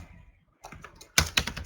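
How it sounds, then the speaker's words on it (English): Bursts of keystrokes on a computer keyboard while coding HTML, quiet at first and then a louder cluster of several close, sharp clicks near the end. "I'm typing a new file here"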